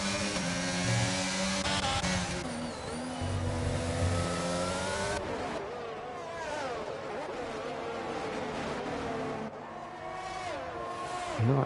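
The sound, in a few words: race car engines in a racing video game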